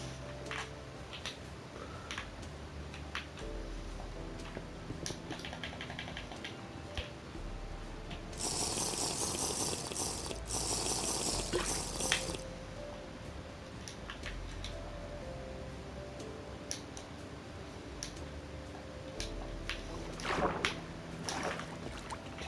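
Flowing water in Minecraft creative mode rushes as a steady broadband wash for about four seconds, standing out loudly over quiet, clicky game ambience before fading back.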